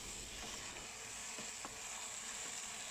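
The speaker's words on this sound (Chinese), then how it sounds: "现在再将调味料和材料一起翻炒均匀" Seasonings such as sugar and oyster sauce are stir-fried with luffa and other ingredients in a pan, making a soft, constant sizzle with a few faint scraping strokes, quiet and without speech.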